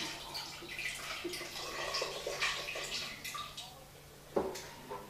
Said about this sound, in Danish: Først vil vi hælde iced tea i.